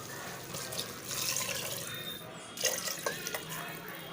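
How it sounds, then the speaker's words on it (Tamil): Water runs and splashes into a cooking pot for vegetable biryani in short bursts, a close, gurgling pour with brief pauses between streams. "1க்கு 2ங்கிற அளவுக்கு தண்ணி சேர்க்க போகிறேன் நான் இப்போது"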